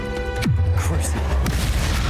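A Confringo fire spell bursts in Hogwarts Legacy with a deep booming explosion that rumbles on and falls in pitch, followed by a second, softer blast.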